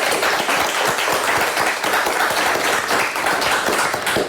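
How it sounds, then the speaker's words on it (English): Audience applause for the Ovid-Elsie quiz team at a televised high school quiz bowl match against Big Rapids: dense, steady clapping from a room of people, fairly loud and continuous throughout with no talking over it. "Let's also give them a nice round of applause."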